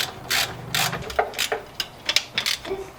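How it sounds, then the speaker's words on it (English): A ratchet tightens the exhaust header bolts on an MK3, with several close, quick bursts of metallic clicking separated by short pauses. "Bolting up the headers now, making sure they're all nice and tight."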